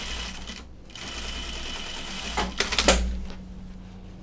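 A sewing machine runs a steady understitching seam on denim bib fabric, a continuous close whir with a brief louder burst near the end.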